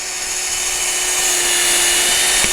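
A power drill mounted on a drill slide whirs steadily at close range, a constant high motorized whine with a faint tonal hum throughout.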